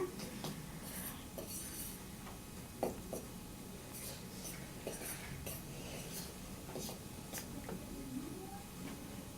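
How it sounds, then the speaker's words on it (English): Flour, salt and baking soda are stirred softly together in a bowl, giving faint scraping and light clinking of a utensil against the bowl in a quiet room, with no talk. "you just mix it softly because you want all the salt and baking soda to mix with the flour"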